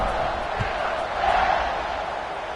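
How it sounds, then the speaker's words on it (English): Stadium crowd noise in a Baylor vs Boise State college football video game, a steady, dense roar of buzzing fans that swells briefly midway, with a voice faintly present underneath. "this crowd is buzzing after that last score"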